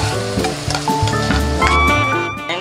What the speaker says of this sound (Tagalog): kumukulo na yung ating pan